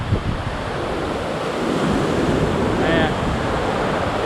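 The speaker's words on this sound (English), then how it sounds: "The sand is amazing. It's super, super fine. So beautiful, even though the waves are crazy." Waves crash and surf rolls steadily on a windy beach at Railay, Thailand, with gusting wind buffeting the microphone and someone briefly speaking over the roar.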